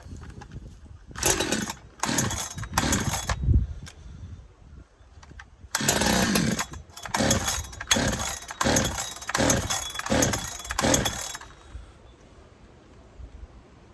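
A Chinese 372xp chainsaw with its air filter cover removed revs in repeated sharp bursts, a few short blips, a pause, then a longer series of loud rising revs close by before dropping back to a low idle.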